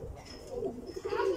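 Pigeons coo softly in an aviary, a brief low murmuring call close by amid faint background noise.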